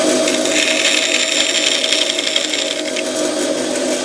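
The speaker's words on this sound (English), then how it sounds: "We'll also do a transverse cut, but very shallow, for that smaller" A shallow transverse saw cut into the wooden handle of a large ball peen hammer, heard as a loud, steady, continuous buzzing cutting whine with a slight rasp, close and without talk.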